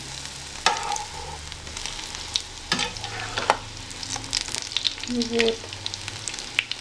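Apple pancakes fry in a pan after being flipped, a steady close sizzle with spatula scrapes and knocks, and a person briefly speaks.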